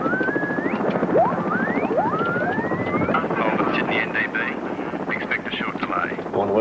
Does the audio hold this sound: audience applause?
no